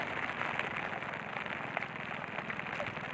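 Rain falls steadily at a Pacific Ocean beach fishing spot, a dense hissing patter with scattered sharper drops, loud and close for a few seconds.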